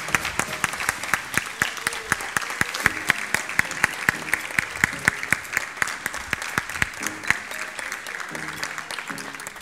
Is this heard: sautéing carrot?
no